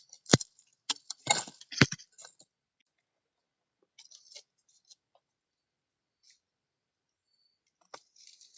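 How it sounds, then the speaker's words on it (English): Pruning shears snip through bent delphinium stems in an autumn garden, giving a few sharp close clicks early on, then sparse faint rustles and ticks in quiet surroundings. "I'm just going to cut off the bent stems"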